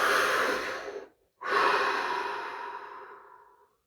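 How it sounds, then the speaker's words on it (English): A single deep breath: a long, close, airy inhale, a brief pause, then a slow exhale that fades out, quiet and alone. "Deep breath."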